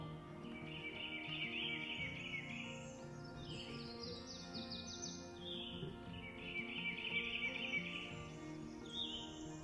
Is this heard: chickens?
no